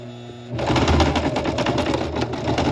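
A sewing machine stitches a Kalle shirt, kicking in after half a second with a close, loud, rapid mechanical whir that continues steadily to the end.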